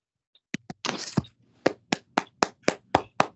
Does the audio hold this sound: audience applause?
yes